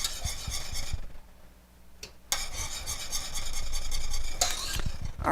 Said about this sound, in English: You want to keep stirring it constantly.